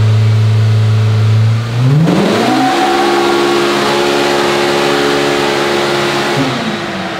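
A Polaris Pro R side-by-side engine on a dyno, loud and close, idling low before sweeping sharply upward and holding a steady high-rpm drone through the pull, then easing slightly at the end.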